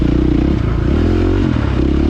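A 2023 KTM motocross dirt bike engine roars loud and close, its pitch stepping through quick quickshifter gear changes without a break in the drone.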